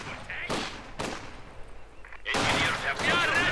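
Infantry gunfire from a Company of Heroes 2 match with a sniper and conscript squads: several sharp shots early, a quieter stretch, then sustained loud volleys of rifle fire layered with battle noise.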